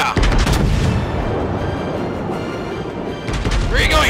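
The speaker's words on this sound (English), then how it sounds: "Brace for impact. The Baron's full broadside." A ship's full broadside of cannon fire in a video game erupts as a loud, sustained barrage of deep booms and rumbling blasts that swell again toward the end.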